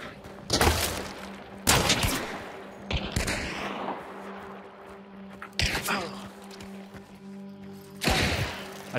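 Shotgun and pistol fire in a video game, several sharp, loud shots spaced a second or two apart over a low background hum, with players talking in between.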